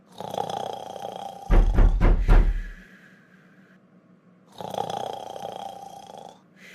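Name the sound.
person snoring loudly while asleep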